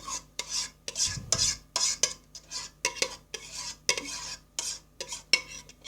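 Metal spoon spreading and scraping cake batter for a kedi dili cake, a steady run of quick, close scrapes and clinks against the pan with brief pauses between strokes.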